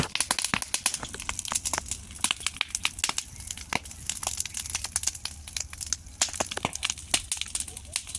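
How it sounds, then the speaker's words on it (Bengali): Dense, irregular crackling and snapping of a burning sugarcane field, with sharp pops over a low background rush. "শু শু শু শু করে আগুন ধরতেছে"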